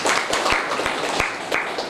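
An audience at a poetry gathering for a poet's birth anniversary claps together, a dense sustained round of applause with a few sharper individual claps standing out.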